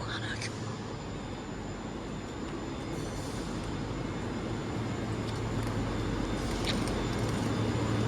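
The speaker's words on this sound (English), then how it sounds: "we do actually have a ScotRail 385 making its way in" A ScotRail class 385 electric train pulls into a station, a steady low rumble that slowly builds, with faint higher squeaks from the rails and no talk over it.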